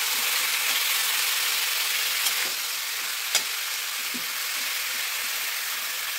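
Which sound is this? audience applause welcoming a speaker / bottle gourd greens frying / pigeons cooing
bottle gourd greens frying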